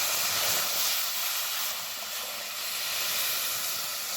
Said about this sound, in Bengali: এবার এর মধ্যে দিয়ে দিচ্ছি পরিমাণ মতো জল।